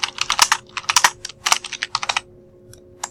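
Quick bursts of computer keyboard typing as a reference plane name is entered in modeling software, crisp close key clicks in rapid runs before trailing off to a couple of final taps.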